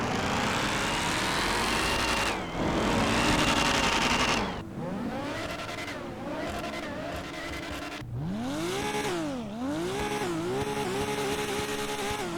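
Custom car engine sound mods in GTA 5, loud engines revving and accelerating in several passes with rising and falling pitch sweeps and gear changes, no voices.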